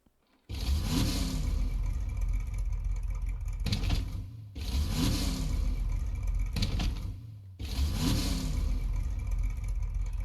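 Ripper car from Rocket League driven in Fortnite, engine revving in three loud roaring bursts of about three seconds each, separated by short dips, close and with no talk over it.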